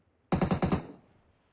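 A rapid burst of about five Uzi shots from the mobile battle-royale game PUBG Mobile, loud and close, fired in quick succession and fading into a short tail.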